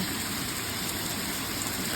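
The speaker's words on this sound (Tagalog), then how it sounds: "Ang lakas ng ulan. Alas 7 ng umaga." Heavy early-morning rain pours down amid flooding water, a dense, steady, loud roar of drops and rushing water with no break and no voices.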